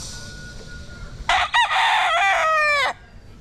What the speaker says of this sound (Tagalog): Broodcock natin na white hatch. From San Telmo Game Farm.